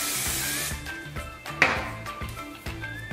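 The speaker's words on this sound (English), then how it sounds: "I'll go in and spray 2 sprays because it weighs down the hair." Hairspray spritzed onto hair during styling, a loud broadband aerosol hiss at the start and another short burst midway, with faint background music underneath.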